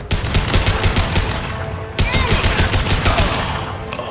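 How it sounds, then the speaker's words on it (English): Rapid sustained gunfire from impact shots in the sci-fi shooter Mass Effect 2, a loud, dense automatic burst that breaks briefly and resumes, with no voices. "Firing an impact shot."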